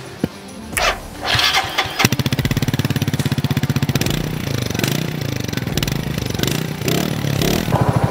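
A Mutt GT-SS 250 motorcycle clatters as its engine cranks and fires, then settles into a loud, rapid, even idle thump close by, with a brief rev midway.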